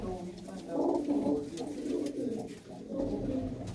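Pigeon cooing close by, a low soft warble that repeats through the whole stretch with someone talking over it.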